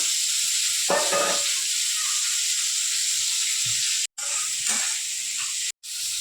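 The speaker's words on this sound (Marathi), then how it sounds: "आता कांदा मी भाजून घेते तेला थोडंसं तेल टाकलं" Onion fries in a small amount of oil with curry leaves, a continuous loud hissing sizzle with occasional spatula clinks and brief stirring scrapes, two short drop-outs, no speech.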